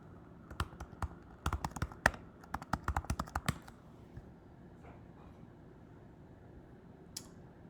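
Rapid clicking of computer keyboard keys as someone types a search into a library website, a dense burst of crisp taps lasting a few seconds, then quiet room tone with one faint later click.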